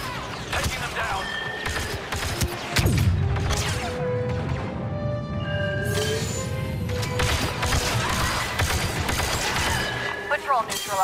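Blaster gunfire in the video game Star Wars Battlefront 2 during a story battle, with rapid bursts of shots and impacts over continuous combat noise, while game characters talk between the volleys.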